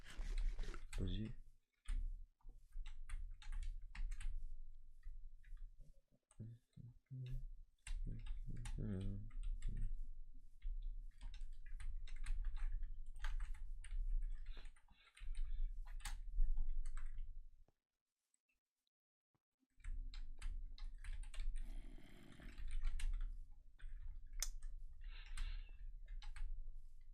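A loud computer keyboard being typed on in rapid bursts of sharp clicks, close to the microphone and running under frequent conversational voice chat.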